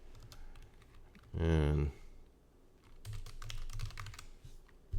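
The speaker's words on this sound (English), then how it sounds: "I'm gonna type this in here." Keys clatter on a computer keyboard in quick, uneven bursts of clicking, close by, with a brief spoken word partway through.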